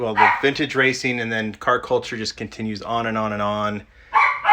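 A dog barks and yips repeatedly in a room, its sharp calls mixed in with someone talking over them throughout.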